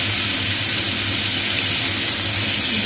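Boiled cauliflower and potato go into a pan with bay leaf and fried bhetki fish, giving a loud, steady sizzle and hiss that runs unbroken throughout.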